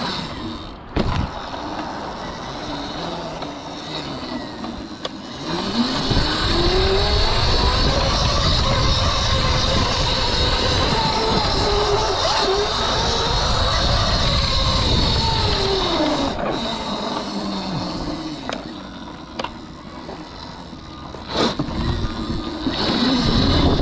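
A 12kW Kuberg Freerider electric dirt bike rides up a short hill, its motor whine rising and falling in pitch under steady loud wind rush, close and continuous for most of the ride.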